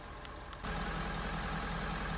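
A Ford Power Stroke diesel pickup idles with a low, even rumble that starts abruptly after a brief quiet moment, steady and fairly subdued from nearby.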